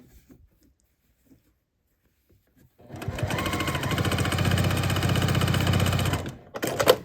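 A sewing machine stitching the last stretch of a quilt block seam, starting after near silence and running as a steady, close mechanical whirring patter for about three seconds before stopping, with a brief bit of handling after.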